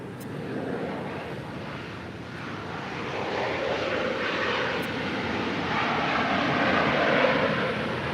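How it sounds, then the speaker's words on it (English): A Delta Airbus A321neo arriving at LAX from Orlando gives a steady, broad jet engine roar that swells gradually as it comes closer, with no voices over it. "That is Delta 2901 coming in from Orlando on an A321 Neo."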